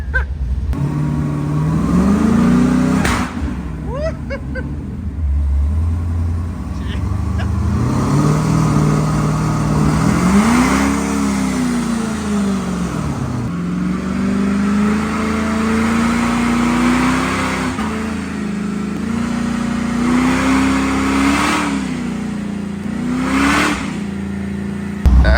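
A supercharged LS3 V8 in a Chevrolet Colorado revs repeatedly on a dyno, loud and close, its pitch swelling and dropping in several rising pulls with short pauses and sharp blips between them.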